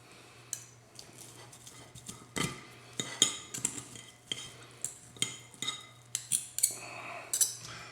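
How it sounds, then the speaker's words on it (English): Cooked beef for an Italian beef sub is pulled apart with utensils in a quiet, close kitchen. Sharp metallic clinks and scrapes land irregularly and come faster toward the end, with no speech. "now we just need to start shredding our beef"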